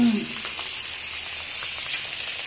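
Black cumin, coriander and radhuni spices hit hot oil with a steady, close sizzle and hiss that continues evenly throughout.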